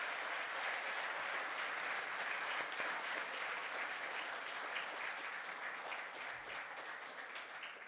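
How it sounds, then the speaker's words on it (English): A graduation ceremony audience applauds families and friends, with dense, sustained clapping from a large crowd that holds steady throughout and fades slightly at the end. "So a boulabos, please, for your family and friends."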